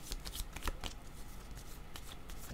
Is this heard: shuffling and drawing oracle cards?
yes